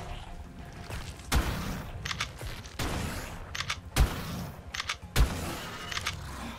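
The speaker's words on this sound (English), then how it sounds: "They keep on coming over here and shooting the Utahs." Love bugs firing in ARK Survival Ascended, sharp shots cracking out roughly once a second in a steady rhythm, each followed by a brief rattling tail, moderately loud amid faint background ambience.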